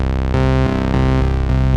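A synthesizer bass built from sine-wave oscillators with a sub-oscillator raised an octave plays loud, steady notes that change pitch every third of a second, with no voice.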